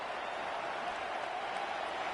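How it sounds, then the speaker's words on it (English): Stadium crowd noise in the Madden 26 football video game, a dense, steady roar filling the scene during a red-zone play, with no distinct peaks and no talking. "This crowd is making it tough down deep in the red zone"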